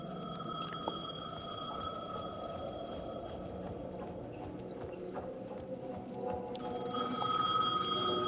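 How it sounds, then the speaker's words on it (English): A telephone rings in the video game Alan Wake 2, steady repeated tones at moderate volume over a low ambient background, with no talking. "phone was ringing"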